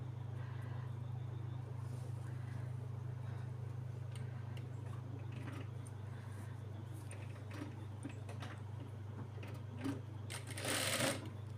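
A sewing machine stitches a child's lehenga blouse, its quiet steady motor hum running throughout with faint mechanical ticking, while someone talks intermittently nearby.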